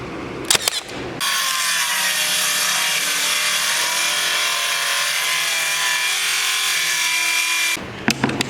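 Hand sawing through a wooden board for a 15-inch subwoofer center console box, a long continuous rasping stroke sound, close and loud, with brief knocks and handling noises at the start and end.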